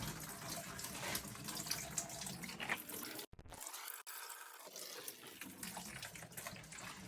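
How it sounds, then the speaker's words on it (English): Water running and trickling out of an A.O. Smith water filter housing during a filter change, a steady close splashing flow that briefly cuts out partway through before resuming. "Let the water drip out."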